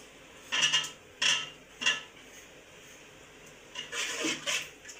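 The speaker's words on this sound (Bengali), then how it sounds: "টমেটোটা দিয়ে কষাই" Tomatoes sautéed in a pan: three sharp metallic clinks of a utensil against the pan in quick succession, then a longer burst of scraping and clatter, close up with a faint sizzle underneath.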